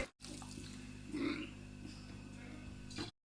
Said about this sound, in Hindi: अब हम इसमें 1 जग पानी का ऐड कर देंगे।